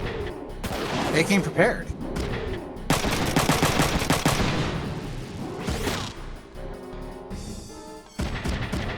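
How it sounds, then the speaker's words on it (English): Shotgun blasts from enemies in the mech strategy game Front Mission 3, loud booming shots under a speaking voice. "Never mind, these guys use shotguns."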